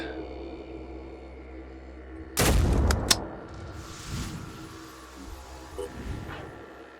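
Gunshots in the tactical game Phoenix Point: after a quiet hum, a sudden loud burst of fire erupts with a couple of sharp cracks, then rumbles and fades into scattered echoes.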